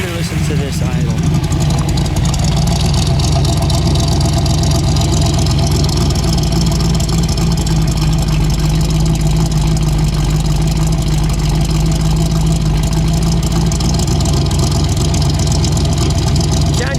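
A 1962 Chevrolet Corvette Roadster with a 327 cubic inch 340 hp V8 idles steadily and loudly up close, a dense continuous rumble with faint voices underneath.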